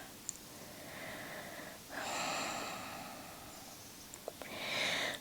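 Slow, audible breaths drawn in and let out while lying over a foam roller or ball in a hip-rolling exercise, soft and close with airy, snorting edges.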